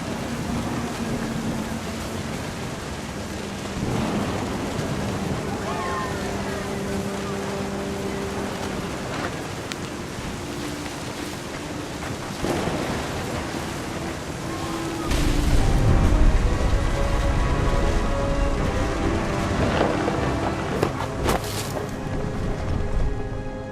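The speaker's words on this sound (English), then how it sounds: "The thunder sounded much too close and full of angry power" Stormy rain with thunder from the video game What Remains of Edith Finch: a continuous wash of falling rain broken by rolling thunder rumbles, with a loud close crack and heavy boom past the midpoint that keeps rumbling.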